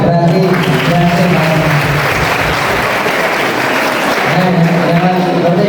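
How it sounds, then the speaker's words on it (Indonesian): Applause from an audience at a santri graduation ceremony, a steady loud wash of clapping that runs through the whole stretch with voices mixed in underneath. "Tepuk tangan berarti berhasil."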